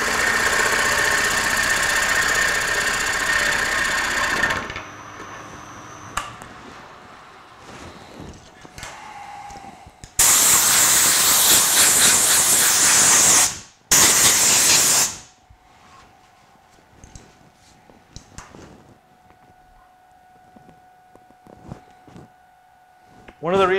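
A lathe gouge cuts the interior of a walnut bowl, with loud hissing, scraping bursts between quieter gaps, heard up close with talking in the clip.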